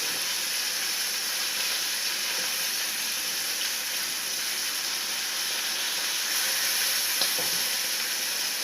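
Sausages sizzling in a frying pan at breakfast, a steady bright hissing crackle held evenly throughout, close and continuous with no talk.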